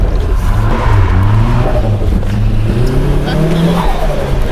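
A car drifting with its engine revving, loud and close, with a rising and falling engine tone and tire noise, and voices talking over it throughout.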